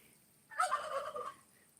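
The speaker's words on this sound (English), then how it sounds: "You can hear my turkeys in the background." Domestic turkeys gobble in the background of an off-grid high desert homestead garden, one short rattling gobble burst lasting under a second, moderately faint and alone.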